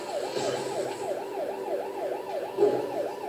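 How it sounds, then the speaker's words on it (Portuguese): A wailing ambulance siren arrives at a mansion in a Lego Marvel video game, its rising and falling tone cycling steadily and loudly for several seconds with no talk over it. "Parece que uma ambulância acabou de chegar aqui na mansão, né?"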